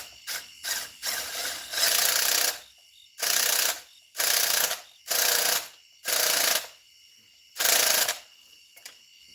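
A battery-powered tool on a low battery whirs and ratchets in repeated loud, close bursts of about a second each, separated by short pauses, while it tightens a fastener.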